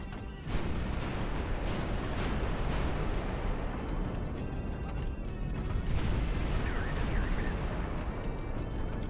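Warship guns in the naval game High Fleet fire repeatedly, a dense churn of booming blasts and rumbling explosions layered over one another, loud and continuous.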